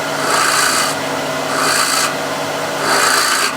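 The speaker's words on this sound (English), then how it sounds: "So what I'll do is just scrape using the right wing, or just left of the point" A gouge's wing scraping the rim of a carved wooden bowl on a lathe, heard as three loud, close, rasping strokes at an even pace with brief gaps, with no talking.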